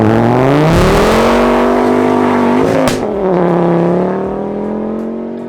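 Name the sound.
330 horsepower Ford Focus TDCI track car driving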